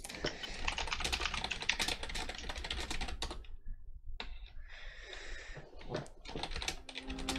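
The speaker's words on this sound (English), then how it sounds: "I hear you typing as you're typing." Rapid, close clatter of keys on a computer keyboard in bursts, with a brief pause midway before the typing resumes, no talking.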